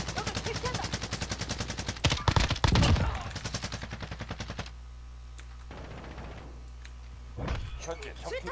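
Rapid automatic gunfire bursts in a shooting video game, loud repeating shots for several seconds, then a pause with scattered single shots and a brief sharp blast near the end, with players talking over it.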